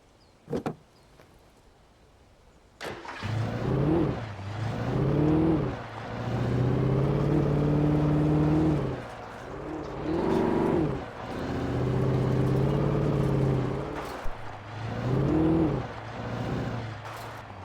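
A car in the video game Alan Wake starts up with a sharp mechanical catch, then its engine hums and rises and falls in repeated revving surges as it drives off, fairly close and alone.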